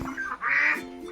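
A flock of ducks quacking close by, a brief run of calls with one louder burst in the middle; a duck in the flock appears to have an injured leg.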